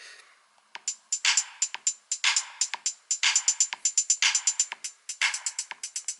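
Drum pattern programmed in the GarageBand beat sequencer on an iPhone: a steady, busy run of crisp hi-hat and snare-like hits in a tight repeating groove, bright and close with little low end.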